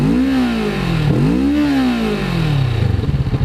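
A 2021 Kawasaki Vulcan S motorcycle with a Euro 5 exhaust revs up twice close by, its engine pitch rising and falling, then settles into a lumpy, pulsing idle.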